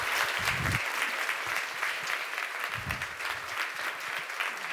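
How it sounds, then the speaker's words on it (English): A burst of audience applause welcomes a debater onto the stage at the Brussels Forum Oxford-style debate, steady and fairly loud with low thumps and a murmur beneath it. "welcome them individually with those bursts of applause"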